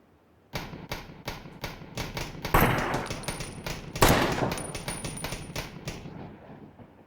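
Rapid bursts of automatic gunfire in the online battle-royale shooter PlayerUnknown's Battlegrounds, loud and near, rattling in quick trains for several seconds with two heavier shot peaks, then tapering off.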